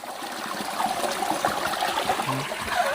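Spring water trickles and flows beneath the ground in a forest, a steady close gurgling stream with a continuous wash of running water and no voices.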